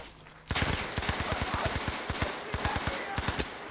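Rapid automatic gunfire in Battlefield 5 story mode bursts in suddenly and keeps up a fast, regular stream of close, punchy shots for several seconds with only brief pauses.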